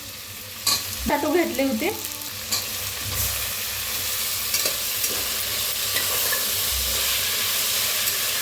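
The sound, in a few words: potatoes roasting/frying in a pan for masale bhaat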